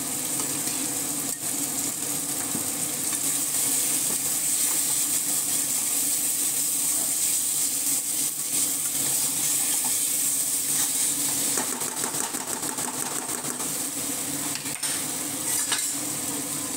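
Rohu fish pieces simmer and sizzle in a pan with a little water, giving a continuous loud hiss and bubbling, with occasional utensil clinks and stirring and no speech.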